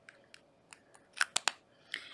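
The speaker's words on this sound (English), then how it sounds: "These are cute little travel scissors." Small travel scissors handled up close, giving a short run of quiet clicks and snips that peak in a few sharper metallic snaps, faint and alone.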